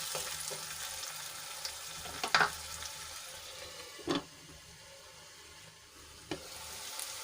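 Onion and tomato mixture cooks in a covered pan, giving a steady soft sizzle with a few louder clicks and pops standing out against it.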